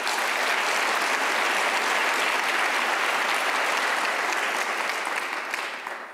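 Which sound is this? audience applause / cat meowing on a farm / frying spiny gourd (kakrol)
audience applause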